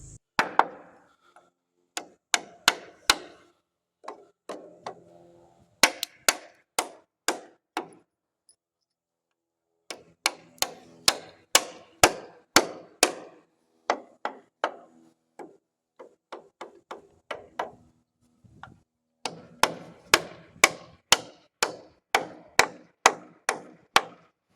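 A framing hammer drives nails with sharp, loud, close strikes in quick rhythmic bursts of several blows, separated by brief pauses.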